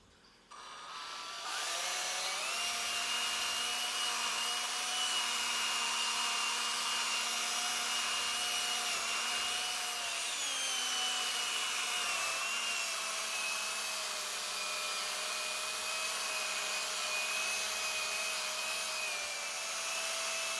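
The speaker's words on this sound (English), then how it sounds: "here we go with the buffing." A drum cymbal being machine-buffed, a steady loud whirring drone with a strong hum that holds evenly for about twenty seconds and shifts pitch slightly partway through, with no talking.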